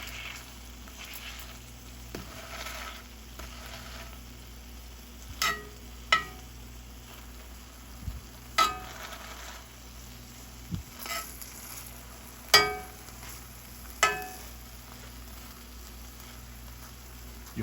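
96% lean beef burgers frying in a pan, giving a low, steady sizzle with occasional sharp pops and crackles spread across the clip and no talking.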